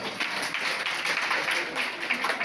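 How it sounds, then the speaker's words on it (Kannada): A crowd applauds at a cooking competition, a dense, even patter of many hands clapping that holds steady throughout, moderately loud with no pauses. "ಫಸ್ಟ್ ಆಫ್ ಆಲ್ ಜೋರಾಗಿ ಚಪ್ಪಾಳೆ ಹೊಡಿಬೇಕು"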